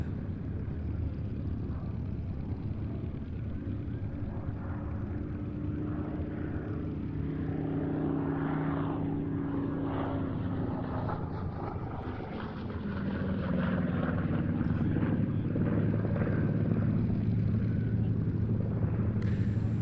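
A SAAB B17 propeller aircraft flies at the Duxford air show, its engine a steady droning rumble that grows heavier and nearer toward the end.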